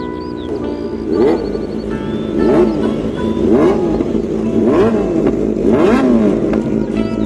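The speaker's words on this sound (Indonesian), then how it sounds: "Gila, mantap banget tarikannya sore ini." Loud motorcycle engines accelerating hard on a road, with repeated rising rev sweeps as gears climb, a sustained roar in the foreground.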